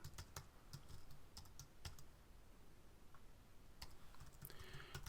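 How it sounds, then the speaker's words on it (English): Quiet typing on a computer keyboard, scattered clusters of soft key clicks with short pauses between them, close and faint, with no talking. "So I'm actually going to type it in here."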